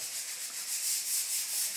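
Sandpaper rubs over a surface being prepared before a first coat, a continuous hissing scrape with a gentle back-and-forth rhythm, close and steady with no talk.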